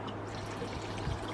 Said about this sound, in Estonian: Et siin ma panen nüüd vett